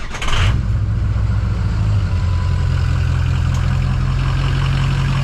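A truck engine cranks and catches, then settles into a loud, steady idle rumble close by.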